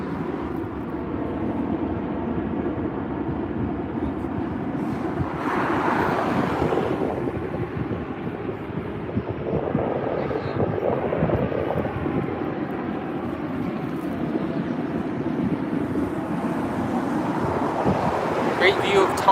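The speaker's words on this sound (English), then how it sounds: "Great touchdown there by BA 280 from London Heathrow, an A380 Super" A British Airways Airbus A380 touching down on runway 24R at LAX, a broad low roar swelling and fading under heavy wind buffeting, with a voice talking over it.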